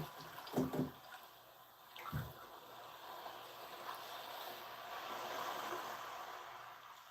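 Water sloshes and swirls in a bathtub with a bather in it, a couple of soft splashes near the start followed by quiet, continuous lapping and trickling.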